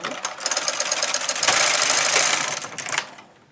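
A knitting machine carriage is pushed right to left across the needle bed knitting a zigzag row of bulky yarn for a fingerless glove, a close clattering rattle that swells mid-pass and then trails off.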